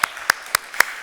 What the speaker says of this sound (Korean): 우리 한번 주님께 큰 영광의 박수 올려드릴까요?